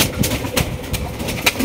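Yellow Barhuma pigeons coo in soft, close, repeated bursts, with a few short calls over a low background.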